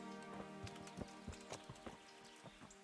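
Horse hooves clip-clop in the medieval video game Kingdom Come: Deliverance, a steady walking rhythm of distinct, fairly close knocks over a constant low tonal background, with no talk.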